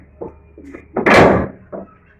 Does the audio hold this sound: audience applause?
no